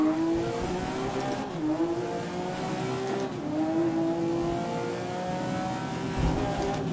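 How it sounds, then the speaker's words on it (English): A GT4-style race car engine in the Grid 2019 racing game revs high and drops through gear downshifts, its droning whine stepping down in pitch several times, loud and close with no talk. "That gear downshift is amazing sound."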